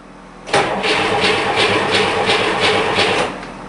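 A rebuilt Buick Skylark GS engine cranks and catches, then settles into a loud, steady rumbling run with a rhythmic pulsing beat, close by.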